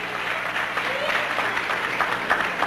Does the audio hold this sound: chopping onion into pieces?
no